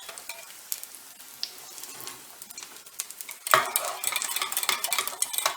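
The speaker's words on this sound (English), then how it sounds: "Now I'm going to add the potato cakes to the hot fat and cook them till they're browned" Potato cakes sizzle and spit in hot fat in a pan, a steady crackling fry that starts fairly quiet and then jumps louder and denser partway through, with no voices over it.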